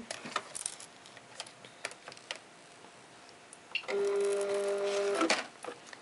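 A Cricut cutting machine loads its mat. Faint clicks and ticks come first, then a steady motorized whir lasts about a second and a half before stopping.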